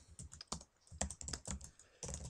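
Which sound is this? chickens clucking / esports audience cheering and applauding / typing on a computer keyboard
typing on a computer keyboard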